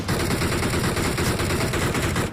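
Rapid continuous automatic gunfire from an M416 rifle in the BGMI mobile battle royale game, a dense loud burst lasting a couple of seconds.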